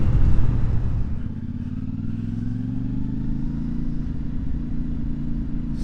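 CFMoto 450MT motorcycle engine while riding, a smooth steady hum with a low throaty note that rises gradually as it accelerates, heard close and alone without talk.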